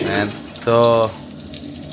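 Water runs through a homemade kitchen filter built from household items, a steady splashing flow like a tap pouring into a sink, with someone speaking briefly over it.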